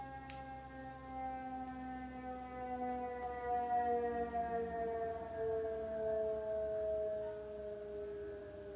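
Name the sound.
ambulance siren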